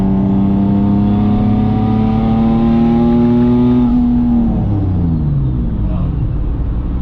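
A single-turbo Nissan 370Z engine revs up with a rising, steady pitch, then drops off as the driver shifts, heard close from inside the car.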